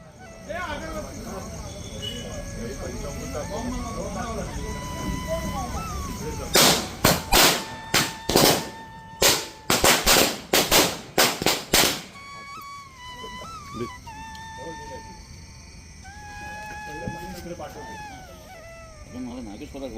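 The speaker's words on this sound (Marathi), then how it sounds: "फटाके वाजवण्यासाठी आलेले आहे" Firecrackers burst in a rapid string of sharp, loud cracks after a Tulsi Vivah ceremony at home, crackling for several seconds amid chirping insects and some background voices.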